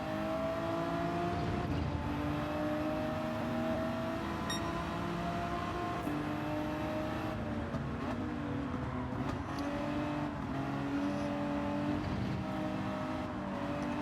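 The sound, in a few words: race car engine in Gran Turismo 7, video game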